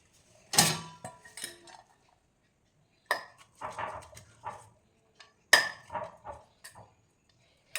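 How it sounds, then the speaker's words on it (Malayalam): Chillies, garlic and shallots being crushed for a Kerala kumbalam leaf curry, heard as clusters of sharp, close pounding knocks and clinks in several bursts separated by brief silences. "ഈ അരിമുളക്, വെളുത്തുള്ളി, പിന്നെ ചെറിയ ഉള്ളിയും കൂടി നമ്മൾ ചതയ്ക്കുമ്പോൾ"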